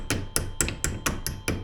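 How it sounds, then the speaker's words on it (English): A hammer taps brake clips on a 1979 Porsche 924 during brake disassembly: seven sharp metallic strikes at a steady, fairly quick rhythm, close and clear with no talk. "tap with your hammer"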